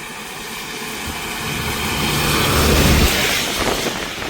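A bus drives across a bridge in Jaffna during a storm with heavy wind and rain, its engine rumble swelling as it nears and fades after passing, all under a constant roar of gusting wind.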